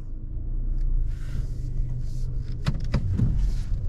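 A 2021 Mazda3 Premium AWD hatchback idles with a steady low rumble while backing out in reverse, with a few brief clicks and clunks partway through.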